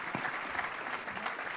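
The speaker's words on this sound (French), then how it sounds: "Veuillez bien applaudir." Quiet scattered applause from a small audience, steady clapping throughout at a modest, somewhat distant level.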